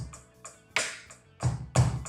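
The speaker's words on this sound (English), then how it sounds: "we've got a fairly simple 12/8 groove here." A light drum kit groove in 12/8 time on hi-hats and bass drum, with soft ticking cymbal strokes between a few heavier kick accents, played alone at close range.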